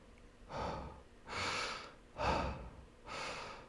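A man left alive after an electrocution breathes heavily, four slow, rasping, gasping breaths in an even rhythm, close and alone.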